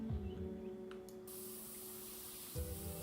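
A spray paint can hisses in Spray Paint Simulator, a PC game. The steady, close hiss runs throughout, with short low thumps at the start and again near the end.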